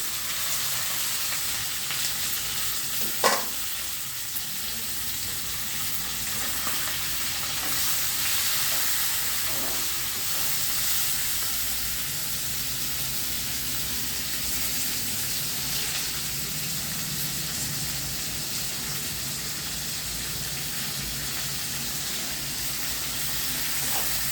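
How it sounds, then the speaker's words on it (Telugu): Ingredients for a broad bean curry frying in a pan, a continuous loud sizzle with light stirring noises, one sharp clank near the start and no talking. "ఇదిగో ఈ విధంగా వేయించుకోవాలి"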